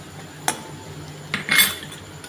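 Potatoes being stirred and sautéed with salt in a pan on the stove, a few sharp metallic clinks and scrapes of a utensil against the pan, spaced apart over a quiet background.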